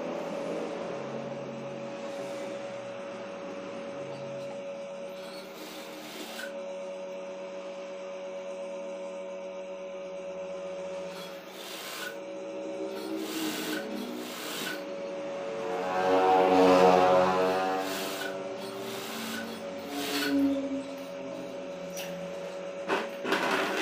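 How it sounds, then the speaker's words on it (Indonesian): A sewing machine stitches the waist seam of a tunic, its motor whirring in steady runs with brief pauses and clicks, swelling louder midway, with no talking. "Nah, kita jahit ini ya teman-teman, ini kita jahit."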